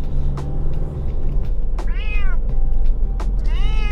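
A cat meows repeatedly inside a moving motorhome, loud and close, with two drawn-out cries standing out over a steady low road and engine rumble.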